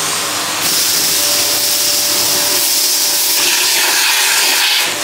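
Bosch Series 2 bagged vacuum cleaner (BGBS2BU1T5) running at maximum suction, a loud, close, continuous rushing hiss whose tone shifts slightly partway through.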